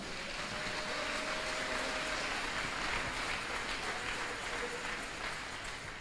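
A church congregation breaks into sustained applause for the Lord, a dense, even patter of many clapping hands spread through the room, steady for several seconds at moderate volume.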